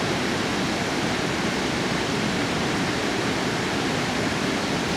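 A river rushes steadily past basalt pillars at Cave Falls in Yellowstone's Cascade Corner, a loud, unbroken broadband roar of falling and flowing water with no pauses or voices.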